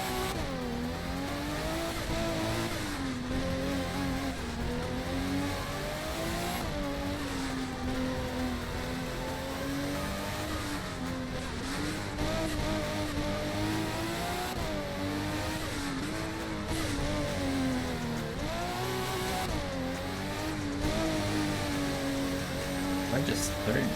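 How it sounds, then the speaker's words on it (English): A Nissan Skyline GT-R R34 in the Midnight Racing Tokyo video game revs hard and steadily throughout, its engine pitch rising and falling through repeated gear changes, loud and close. "Now we're gonna drive the R34."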